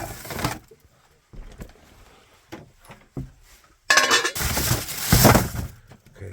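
Bursts of clinking and rattling as plastic containers, muffin tins and cheap metal tins are handled in an old attic or cellar, with quiet gaps between sharp clatters and a louder jumble toward the end.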